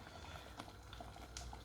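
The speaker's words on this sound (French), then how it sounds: "regardez, ça fait quelques bulles." Béchamel sauce thickening on the heat bubbles faintly, with soft scattered pops and blips over a low steady simmer, close and quiet.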